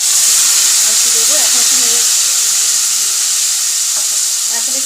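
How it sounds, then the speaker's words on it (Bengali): A spice mixture fries loudly in a pan with a continuous bright sizzle and steam hiss, while a spoon stirs it with occasional scraping touches and a voice speaks faintly underneath. "এখন একটু নেড়ে নিই"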